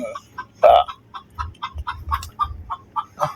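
Chickens cluck nearby in a series of short, choppy calls spaced roughly every third of a second, one louder squawk standing out early, with no talk over them.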